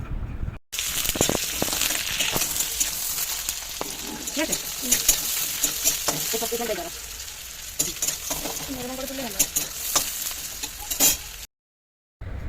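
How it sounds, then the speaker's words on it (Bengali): Large-cut onions fry in oil with cumin and dried chili for an egg omelette curry, giving a continuous sizzle broken by scraping stirs and clatter, with faint voices in the background. "যে বড় বড় করে পেঁয়াজ কাটা ছিল সেই পেঁয়াজগুলো দিয়ে দিল মা ভাজতে"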